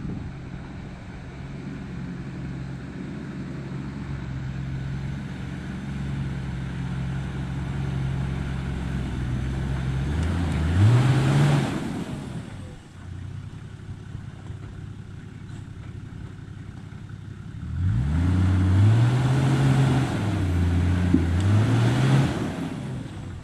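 A 4WD off-road vehicle labors up a steep coastal hill trail, its engine droning steadily, then revving hard in two strained surges with rising pitch, loud and close with no talking.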